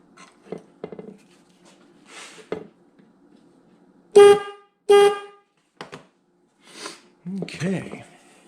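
Two short, loud honks from a 1955–1956 Chevy car horn on a bench test, partly muffled by a hand over it and sounding a little sick, between stretches of quiet talk and bench clatter.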